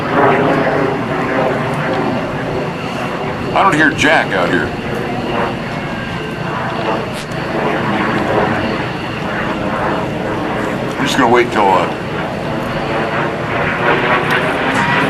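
An F-8 Crusader jet roars loudly and continuously at an airshow, with engine noise dominating while someone talks briefly over it.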